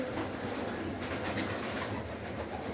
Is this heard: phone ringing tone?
no